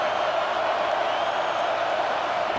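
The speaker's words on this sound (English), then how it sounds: "here comes the noise. This crowd is trying to inspire this defense to make a big red zone stop" A steady, loud crowd roar fills a college football video game stadium during an NCAA Dynasty red zone defensive stand between FSU and Clemson, holding a dense, unbroken wash of noise throughout.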